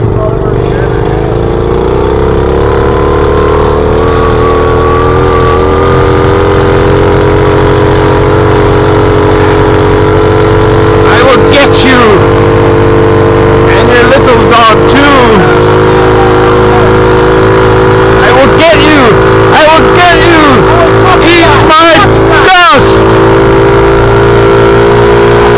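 A motorbike engine held at full throttle while climbing a steep hill, loud and close with a sustained strained drone and a slowly rising pitch, broken by a few sharp revving spikes toward the end.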